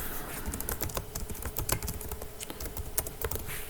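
Computer keyboard typing sound effect, used as audio for a typing-text animation in CapCut on PC: a steady patter of quick, crisp key clicks throughout, close and moderately loud, with no voices.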